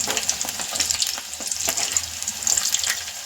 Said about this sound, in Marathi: आता आपण हे व्यवस्थित डीप फ्राय करून घेऊया